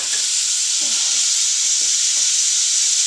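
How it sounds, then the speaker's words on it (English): Corn and vegetables frying in a pan give off a loud, continuous close-up sizzle with a hissing wash and a few faint stirring knocks, no one speaking. "you're going to fry the corn in this along with the vegetables there"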